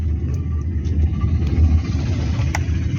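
Cars rolling near a ferry at Tarkali on the Konkan coast, a steady low engine rumble close by with faint higher clatter and a brief sharp knock near the end.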